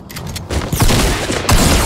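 Rapid bursts of gunfire in the video game Fortnite, loud and close, with a heavier barrage partway through and another sharp volley near the end.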